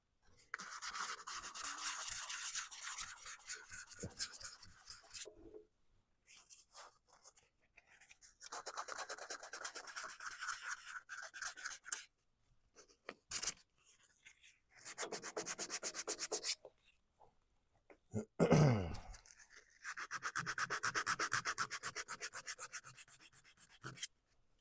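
Abrasive rubs against a wood turning in several separate bursts of raspy scratching, near and fairly quiet, with short silences between passes and one louder knock.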